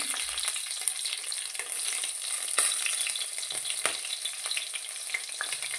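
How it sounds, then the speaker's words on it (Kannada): Green chillies fry in hot oil with cumin and mustard seeds, giving a loud, continuous sizzle and crackle with the occasional scrape of stirring. "ಹಸಿಮೆಣ್ಸಿಕಾಯಿ ಎಲ್ಲ ಚೆನ್ನಾಗಿ ಫ್ರೈ ಆಗಬೇಕು"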